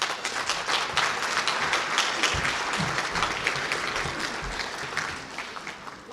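Audience applause welcoming a county supervisor to the stage at an immigrant entrepreneurs summit awards event, a steady, dense crowd clapping that holds level, then thins slightly toward the end.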